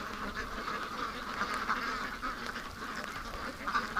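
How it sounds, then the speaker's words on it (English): A small wobbly duck with some physical problems quacks just ahead outdoors, its repeated calls steady and moderately close over a constant background hiss. "I like that little wobbly duck. Right ahead of us here."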